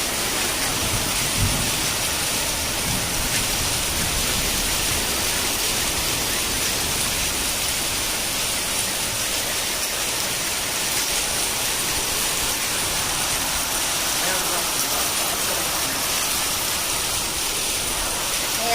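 Heavy monsoon downpour over open farmland, a steady, loud wash of rain that holds unbroken for the whole stretch, close and enveloping.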